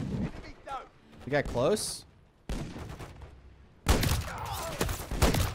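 Gunfire in the Modern Warfare 3 campaign, with bursts of shots and heavy explosive blasts mixed under game dialogue and voices, growing louder and denser toward the end.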